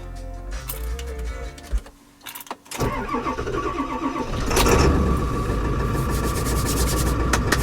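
A pickup truck engine cranks and starts, then settles into a loud, steady rumbling idle close by.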